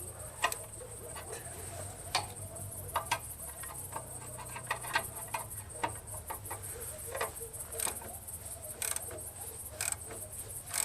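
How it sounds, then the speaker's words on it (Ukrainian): A wrench is worked to tighten the cylinder liner on a heavy diesel walk-behind tractor, producing faint repeated ticks, clicks and small metallic creaks in an irregular rhythm against a quiet background. "З цієї сторони крутимо ключем. Так. Дивимося, як воно потрошечки затягує."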